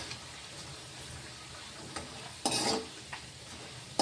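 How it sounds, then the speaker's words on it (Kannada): Garlic sizzling gently in oil on a low flame, a soft continuous frying hiss with a few louder scraping bursts of a spoon against the pan, no talk. "ಉರಿ ಸಣ್ಣ ಇಟ್ಟು ಫ್ರೈ ಮಾಡಂಬ್ರಿ"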